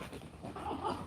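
A dog vocalizing briefly at a zoo, a short whimpering yip or bark rising near the end, faint and close with background noise and no talk.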